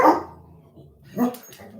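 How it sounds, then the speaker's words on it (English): A dog barks sharply once, then again after a short pause, with a faint whimpering sound in between. "And there are my dogs."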